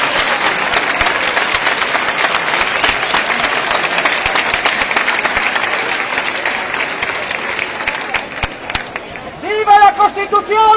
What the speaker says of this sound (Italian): mi interessa questi applausi, mi interessa questa gente